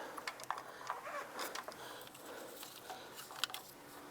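Ratchet and socket working loose a knock sensor on a 2004-2008 Acura TL, faint close clicking and scattered metallic ticks in short irregular bursts, quiet and without talk.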